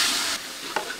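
Eight hundred grams of large onions go into hot oil in a pot already holding chillies, star anise and bay leaves for a village-style chicken liver biryani, giving a brief burst of loud sizzling with a stir.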